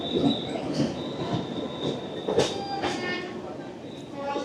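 On the Araku mountain railway, a train rolls along with a steady rumble, squealing wheels and occasional sharp metallic screeches, while voices murmur faintly in the background.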